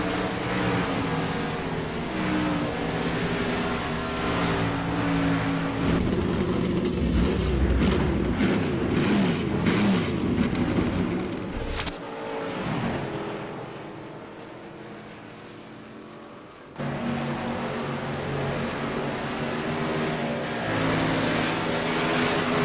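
Race cars at the Auto Club track circle under yellow flag behind a Ford Mustang pace car, a steady engine roar swelling and fading as cars pass, with a brief lull before the drone returns.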